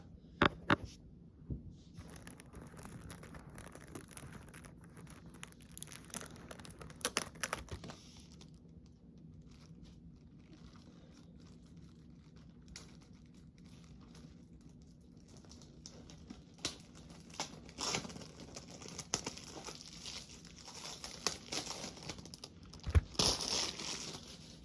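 Plastic wrap being cut and peeled off a CD case, sparse crinkling and tearing bursts with scattered clicks against a quiet room background, no speech.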